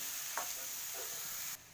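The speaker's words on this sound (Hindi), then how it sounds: "इसमें इसे भी अच्छे से मिक्स करके भून लेना है।" Green peas and spinach with spices fry in a pan, making a soft, continuous sizzle broken by a couple of brief scraping stirs before the sound drops away at the end.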